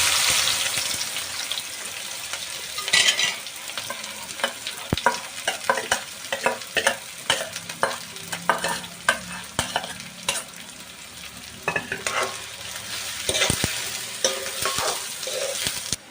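Sliced onions fry in hot oil with whole spices for a dhaba-style egg masala gravy, a bright continuous sizzle broken by frequent sharp scrapes and taps of a spoon stirring the pan.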